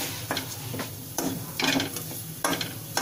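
A coarsely ground stuffing is stirred and roasted with curry leaves in a hot pan over high flame, with a spoon scraping in uneven bursts over a soft sizzle, close and without speech.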